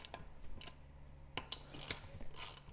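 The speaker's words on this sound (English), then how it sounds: "I usually go around here with my little wrench until it gets difficult." Small hand wrench spinning lug nuts on the wheel of a 2023 Polaris Ranger 1000XP fitted with Tusk beadlock rims, heard as close, repeated ratcheting clicks in short bursts with brief pauses between.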